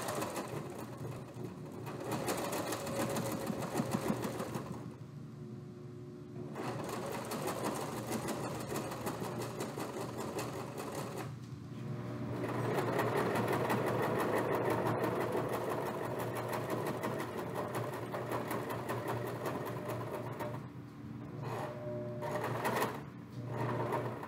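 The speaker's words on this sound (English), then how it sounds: "Removing the pins as I sew." A sewing machine stitches fabric in long steady runs with brief pauses between, its fast whirring and needle clatter near and moderately loud, and no one speaks.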